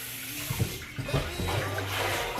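Water runs steadily from a tap while callaloo leaves are swished and handled in it, with soft splashes and a light rustle close by.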